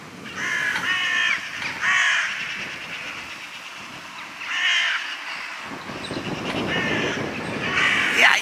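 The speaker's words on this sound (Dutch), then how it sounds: "kijk wat een kraaien." Several crows caw from a tree on a cold day, harsh repeated calls arriving in bursts near the start, middle and end, with steady background noise between.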